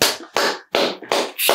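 A few sharp bursts of hand clapping, loud and close, arrive in four separate groups with short silences between them, in a quiet room at home.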